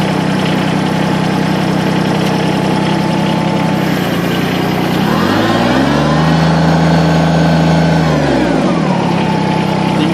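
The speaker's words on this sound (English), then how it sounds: "Now I'll start the tractor up and do it going slow here and show you" Tractor engine runs steadily while the machine creeps along slowly, a continuous mid-pitched drone that swells in a brief rev mid-clip before settling back, close and loud with no talk.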